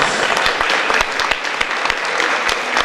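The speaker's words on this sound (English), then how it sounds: "let's give them a round of applause." Round of applause from a gala audience at an anniversary event, dense continuous clapping with sharp individual claps standing out, loud and sustained throughout.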